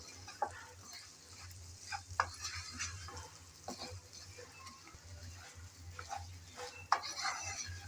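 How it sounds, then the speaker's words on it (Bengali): Spicy pointed gourd with black pepper is stirred in a pan, with a soft continuous sizzle and scattered scraping clicks of the spoon against the pan, faint and close over a low hum. "এভাবে নাড়াতে নাড়াতেই পটল কিন্তু পুরোপুরি সিদ্ধ হয়ে আসবে"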